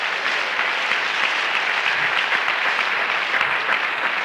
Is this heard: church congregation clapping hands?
yes